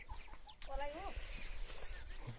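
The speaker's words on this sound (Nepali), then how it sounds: "यहाँ हाम्रो आन्टीको यहाँ कुखुरा फर्म छ" Chickens on a small village poultry farm holding local and broiler birds, faint clucks and brief calls at a distance against outdoor background noise, with a hint of voices.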